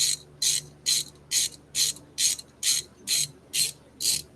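A disc brake caliper slide pin being loosened with a ratchet wrench, ten evenly spaced crisp ratcheting bursts in a steady rhythm, close and clear with no talk.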